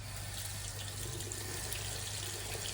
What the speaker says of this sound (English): Now I'm gonna run this under warm water.